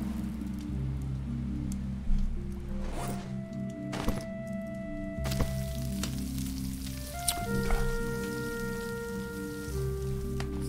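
Food sizzling over a fire in the survival game Stranded Deep, a continuous crackling fry sound with steady tones and a few sharp clicks, no talking.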